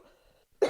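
A single sharp cough bursts out near the end, loud and close, following a stretch of faint low background hum.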